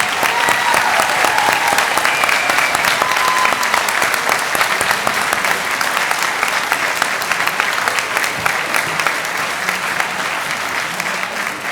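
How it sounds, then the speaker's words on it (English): Steady, loud applause from a large audience at a high school senior awards and cording ceremony, dense clapping continuing without break across the whole stretch, no speech. "let's give a round of applause for our National Honor Society"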